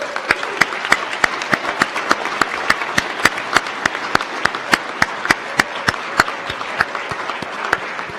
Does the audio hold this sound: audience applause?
yes